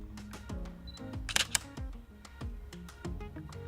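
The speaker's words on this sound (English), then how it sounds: "the shutter opens and closes fast enough to freeze any movement" A Canon 77D camera's shutter fires in a quick, sharp mechanical burst near the middle, heard close and small against a busy background of music.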